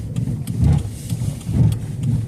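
A car rolling along on a bare wheel rim, giving a low rumbling drone that swells and fades in a slow, repeating pulse, up close and continuous with no talk.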